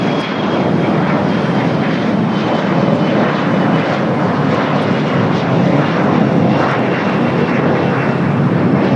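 A large fixed-wing airliner takes off from runway 25 right at LAX, its engines roaring loud and steady with broadband rumble throughout, no voices.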